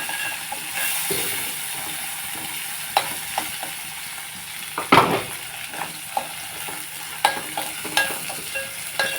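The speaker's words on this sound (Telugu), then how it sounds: "ఇప్పుడు నేను నెత్తలు ఇందులో వేసేస్తున్నాను కొంచెం వేగిన తర్వాత ఉల్లిపాయలు వేసేసుకున్నాను" Dried fish and onions fry in a pan in a steady sizzle, with a few louder scrapes and clinks as a utensil stirs them, close and alone without talk.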